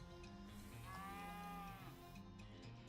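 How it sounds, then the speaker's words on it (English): A cow moos once in the West of Loathing game, a drawn-out low call at moderate volume over a quiet background, with no talking. "Moo."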